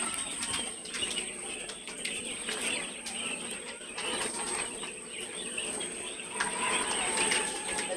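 A flock of poultry birds, broilers and layers, moves about and drinks water in a shed, giving a steady dense mix of cooing, soft calls and wing rustles, close and continuous, over a constant high-pitched hum.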